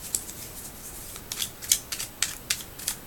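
Tarot cards are drawn from a deck, giving a series of light, crisp card snaps and slides, several sharp flicks in quick irregular succession over a quiet background.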